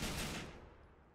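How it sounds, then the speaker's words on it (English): Gunfire rattles in Grand Theft Auto 4 during a Liberty City bank heist, a dense burst of rapid shots that decays over about a second, fairly loud with no voices. "What are you shooting at?"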